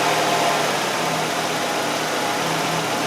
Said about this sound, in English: the engine should start running really crappy